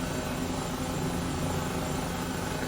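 Airbus H135 helicopter engine and rotor in Microsoft Flight Simulator 2020, a steady, dense whine and drone that holds constant throughout, heard alone with no talking.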